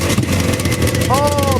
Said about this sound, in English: Had a little bit of backfire there